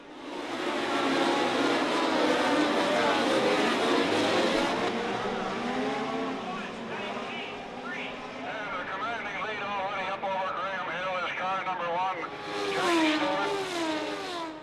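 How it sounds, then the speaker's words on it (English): Formula One race cars from 1970 pull away at a race start, with a steady loud chorus of high-pitched engines rising and falling in pitch through repeated gear changes as the pack passes. "the cars moved up to a start which saw Jackie Stewart surge into the lead."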